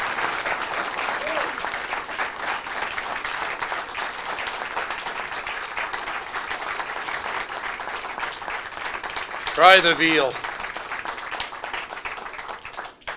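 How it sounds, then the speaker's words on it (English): A debate audience gives sustained, steady applause for Chris Cooley, a dense wash of clapping that runs the whole stretch, with one voice briefly breaking in near the end. "Ladies and gentlemen, please, a round of applause for Mr. Chris Cooley"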